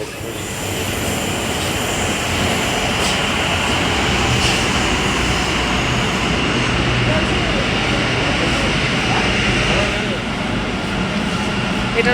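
A Kolkata metro train runs through the tunnel beneath the Ganges, a loud continuous rumble and roar heard from inside the carriage, steady throughout with faint voices under the noise.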